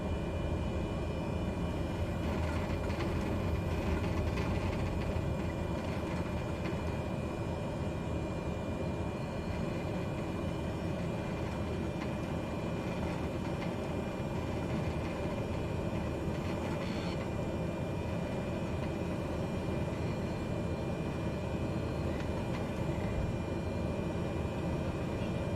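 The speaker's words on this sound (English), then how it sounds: "I'm going to taxi straight out this way" A Cessna C208 single-engine turboprop taxiing in a flight simulator gives a continuous, even engine drone with a broad rushing hum, steady and moderately loud for the whole stretch with no voices.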